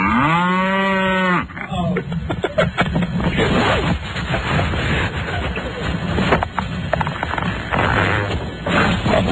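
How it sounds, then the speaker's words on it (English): A cow moos once with a long, loud, drawn-out call, followed by steady rustling and thumping farmyard background. "Mike, that was a weak one. That's a cow"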